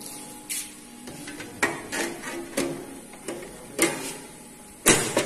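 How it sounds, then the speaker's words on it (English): Metal top cover of a DC pulsed power supply being closed and its screws fitted, a series of separate clanks, taps and scraping knocks spaced a second or so apart, close by and moderately loud. "close the top cover and fix the screws as before"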